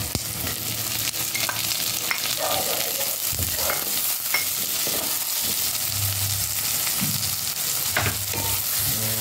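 Chopped onions and tomatoes sizzle steadily in a pan for pinakbet with pork liempo, a continuous frying hiss with occasional stirring clatter and scraping; no talking.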